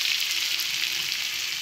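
Mashed potato balls frying in a wok, a short burst of steady, close hissing sizzle with no talk.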